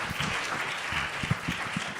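Applause from an audience at an alumni interview session, steady clapping of many hands with a few sharper individual claps standing out.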